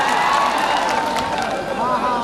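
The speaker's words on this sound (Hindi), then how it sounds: "ताली बजाइदिनुहोस् उहाँहरू सबैलाई" An audience claps and cheers at an outdoor stage show in Nepal, a dense wash of crowd noise lasting the whole moment, with a voice speaking over it.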